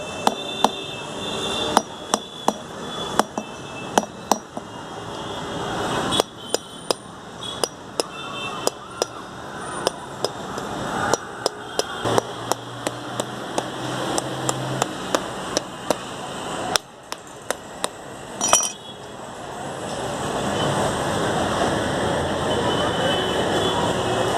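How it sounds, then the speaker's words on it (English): A ripe wood apple's hard shell is struck open like a coconut, giving many sharp, close knocks in an irregular rhythm with short gaps, then the blows stop near the end. "We have to break open the wood apple just like we do for coconut."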